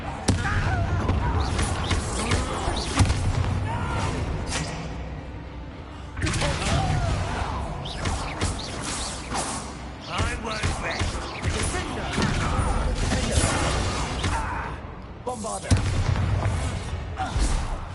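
Booming blasts from the Bombarda spell in the video game Hogwarts Legacy, loud and heavy, mixed with a dense battle soundscape and a spoken incantation.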